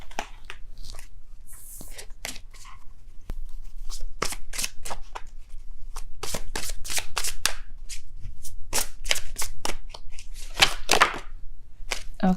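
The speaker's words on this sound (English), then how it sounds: "I will be pulling 3 cards from the Psychic Tarot deck." A Psychic Tarot card deck is shuffled by hand in a burst of crisp riffling strokes, close and loud, falling into irregular rapid runs with short pauses and no talking.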